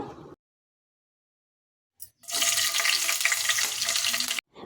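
Green chillies dropped into hot oil with shahi jeera, cloves and a bay leaf, breaking into a loud, steady, close sizzle after a brief quiet gap.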